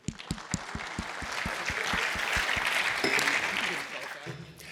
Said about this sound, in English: Let's have a round of applause for Paul.